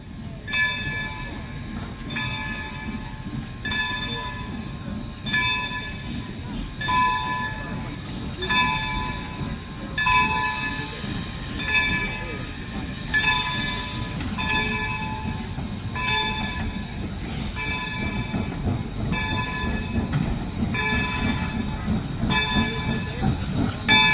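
A train backing up past parked steam locomotives, including a Canadian Pacific Jubilee, with a steady rumble of rolling railcars and repeated rhythmic clanks at regular intervals, a horn or bell tone standing out near the middle.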